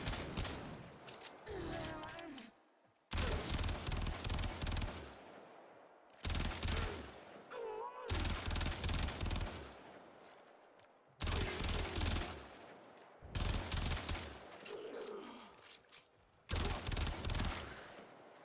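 Kuva Hind rifle in burst mode in Warframe, firing loud, dense volleys about every two to three seconds, each lasting around two seconds, with short pauses and a quiet voice between them.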